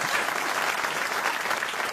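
A studio audience on a French radio comedy show claps in steady, dense applause that stays even and moderately loud for the whole two seconds.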